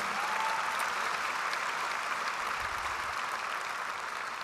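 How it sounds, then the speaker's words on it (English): At a public memorial service for Murray Sinclair in Winnipeg, the audience gives Curtis Monkman a big round of applause, a dense, steady, loud wash of clapping from a large crowd holding level throughout. "So please give Curtis a big round of applause"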